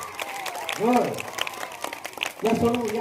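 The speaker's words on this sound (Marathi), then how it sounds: "भाऊसाठी जोरदार टाळ्या" A crowd claps for a guest at a Zilla Parishad Marathi school event in Khandala where clothes are donated to students. The clapping forms a steady background under a loud voice calling out near the microphone.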